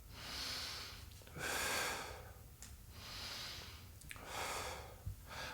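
Heavy exertion breaths during a glute exercise in a beginner full-body workout: a long inhale and a long exhale, repeating twice in a steady rhythm, close and fairly loud with no talking.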